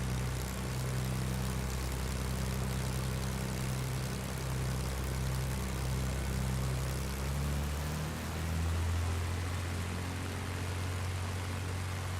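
Propeller airplane engine in Microsoft Flight Simulator throttling up on the runway, a steady loud droning hum with tonal engine harmonics that climb in pitch and strengthen partway through, alone without talk.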